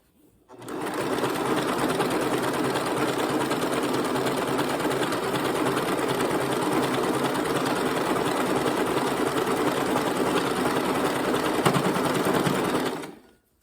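A sewing machine stitches the pieces of a jelly roll quilt, running in one steady, continuous whir from start to finish at close range, with no talking.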